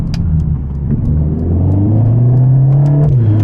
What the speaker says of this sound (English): just let you hear those downshifts first.